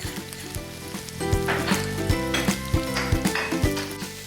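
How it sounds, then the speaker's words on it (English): Mushrooms seasoned with garlic, salt and pepper fry in a pan with a loud, steady sizzle, broken by repeated scrapes and knocks of stirring against the pan, close and without talk. "you continue to cook the mushrooms until they are tender"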